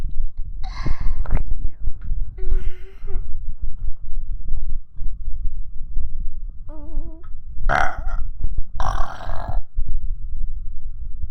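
A woman burps close to the microphone, several croaking eructations spread through the stretch along with a few sharp breathy bursts, over a low rumbling, breathy background.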